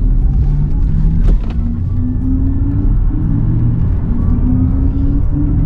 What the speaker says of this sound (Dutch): deze Audi gaat dwars zoals geen enkele andere.